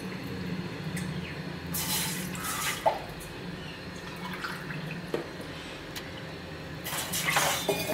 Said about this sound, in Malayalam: നമുക്ക് രണ്ട് ഗ്ലാസ് വെള്ളം ഒഴിക്കാം.